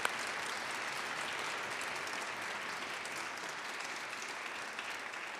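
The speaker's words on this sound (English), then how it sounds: "let's give a warm round of applause for our legislative supporters." An audience at a legislative advocacy event applauds its legislative supporters, giving a long, even round of clapping from a sizable crowd, moderately distant and without speech over it.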